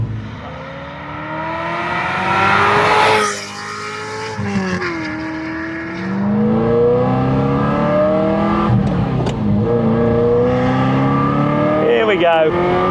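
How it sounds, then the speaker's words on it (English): A Ferrari 348 Spider's V8 revs hard on an open road, rising through repeated climbing pulls with brief dips at gear changes, loud and close throughout, with a voice talking over parts of it. "the noise coming out of that V8 is just epic"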